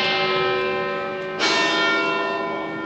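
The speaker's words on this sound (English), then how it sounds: "Oh, you can hear the bells as well." Church bells of a basilica in Bergamo, Italy, ringing steadily with sustained resonant tones, a fresh strike midway renewing the chime, clear and fairly close with no talk.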